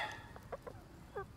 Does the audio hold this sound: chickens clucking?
yes